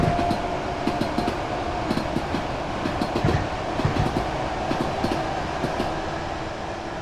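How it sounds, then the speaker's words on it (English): A train on the Brighton Main Line rolls on steadily, its wheels beating out a regular clickety-clack over the rail joints beneath a continuous rumble and whine heard from on board. "I like that track joint sound"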